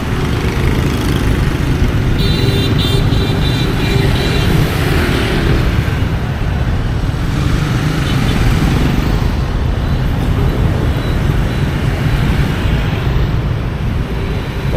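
Dense street traffic in Saigon, with motorbikes and cars producing a continuous loud roar of engines and tyres, close and steady throughout, with a few brief higher tones rising out of the din.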